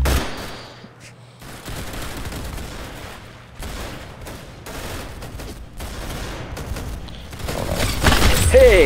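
Rapid gunfire rattles through a round of the Roblox game Arsenal, with dense bursts of shots and blasts repeating across the scene, loud and close with brief gaps between volleys.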